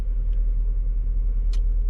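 A Ford Fusion SE with a 5-speed manual gearbox runs, a steady deep engine rumble droning evenly from inside the car, with a couple of faint brief clicks over it.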